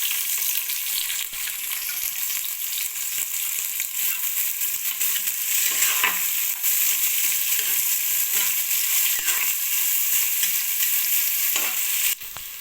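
Onions and garlic fry steadily in a pan, giving a continuous, close sizzle with occasional stirring scrapes and no talk.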